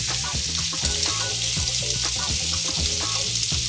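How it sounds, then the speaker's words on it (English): A seasoned beef roast sears in a hot skillet at medium-high heat, producing a loud, continuous close-up sizzle with crackling pops and stirring sounds throughout. "we want to take that beef roast, put it in the skillet. We got it nice and hot"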